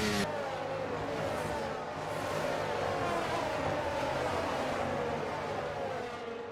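A Formula 1 car engine in the F1 23 racing game held at high revs during a practice start, a steady droning whine that stays loud and even throughout, with no talk.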